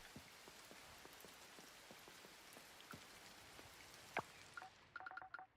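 Rain falls steadily in the farming video game Coral Island, a soft continuous patter with scattered drop ticks, then a few short electronic beeps from the game near the end.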